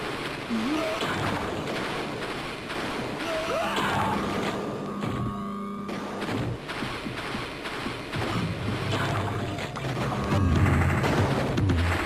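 Rapid gunfire from the Amiga first-person shooter Gloom, dense repeated shots and bursts layered over other game effects, steady and loud throughout with a heavier surge near the end, no talking.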